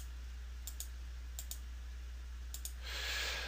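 Several light clicks of a computer keyboard, two brief pairs and a third double tap spread out over a steady low hum, followed by a soft rushing noise.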